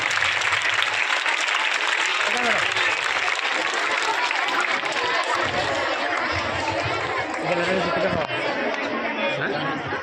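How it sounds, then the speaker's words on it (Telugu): Loud, sustained applause from a large crowd honouring donors at a school anniversary celebration at the PM Shri Ambedkar Gurukul in Veldurthi, with chatter and voices mixed into the clapping throughout. "చాలా గొప్ప గొప్పగా చప్పట్లు"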